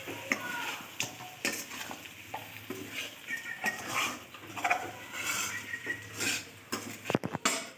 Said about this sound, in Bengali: এবার ভেজে রাখা চিংড়ি মাছটা দিয়ে দেবো, দিয়ে একটু নেড়ে চেড়ে নিয়ে নেব।